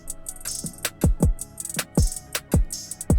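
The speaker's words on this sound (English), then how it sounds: "that's the drum pattern going on there" Hip hop drum loop from the Cobra sample pack, a trap-style pattern of deep booming kicks with pitch-dropping tails, crisp snares and fast hi-hats repeating in a tight groove.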